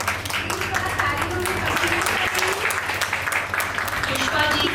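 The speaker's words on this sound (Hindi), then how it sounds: "Please give a big applause" Applause from an audience at an Inner Wheel Club foundation day event, a broad run of clapping that stays steady throughout, with people's voices talking over it.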